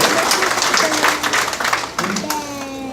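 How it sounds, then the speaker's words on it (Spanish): A congregation at a charismatic Catholic evangelization gathering claps and applauds warmly. Voices can be heard among the clapping as it fades out toward the end. "Denle un aplauso al Señor."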